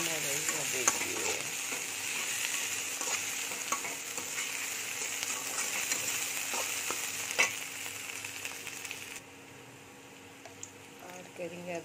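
Onions frying in a pan for a spicy okra dish, with steady close sizzling and repeated scraping stirs throughout, fading slightly near the end.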